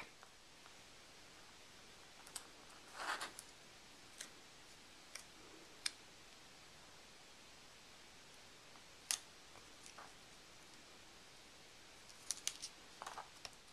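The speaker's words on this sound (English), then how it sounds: "what I'll do is just snip a piece and back this heart with that the glitter tape" Scissors snip gold glitter tape, giving a few faint, sparse clicks and short cuts scattered across a quiet room.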